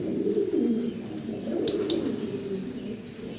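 Fancy pigeons at a breeder's loft cooing continuously, a low, steady burbling close by, with a couple of brief high clicks partway through.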